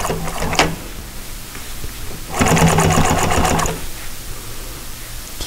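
Sewing machine stitching a boxed T upholstery cushion, heard as one steady burst of rapid mechanical stitching lasting about a second and a half, with fabric handling noises before and after.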